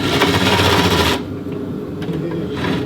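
A power cutting tool slices through a coilover bolt from an MK7 GTI, throwing sparks, a harsh buzzing grind for about a second that stops abruptly and leaves a quiet background.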